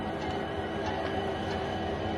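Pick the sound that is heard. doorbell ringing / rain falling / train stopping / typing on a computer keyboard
train stopping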